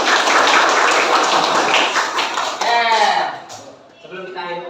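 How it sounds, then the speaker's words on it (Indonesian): Students in a classroom break into applause together, a dense, fairly loud burst of clapping that fades after a few seconds as a voice begins speaking. "Tepuk tangan dong untuk kita semua."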